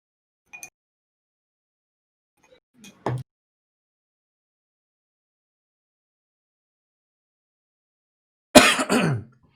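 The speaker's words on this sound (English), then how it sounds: "You do the first cough, and then there's so many behind it." A faint click, then a short throaty cough, and after a silence a louder burst of coughing and throat clearing, close by.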